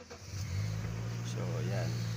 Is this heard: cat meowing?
no